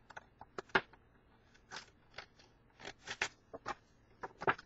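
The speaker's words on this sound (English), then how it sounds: "Cut on the solid lines." Scissors cut a paper cupcake box lid along solid lines, giving a string of crisp, short snips at an uneven pace with small gaps, close and quiet.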